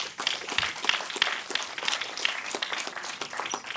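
Steady, moderately loud audience applause follows a scientific conference session of oral presentations, a dense patter of many hands clapping without pause and no talk over it.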